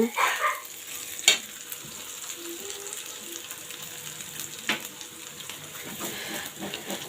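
Beef tripe frying with onion paste while being stirred, a soft steady sizzle with scraping strokes of the spoon and a sharper clatter near the start, no talking.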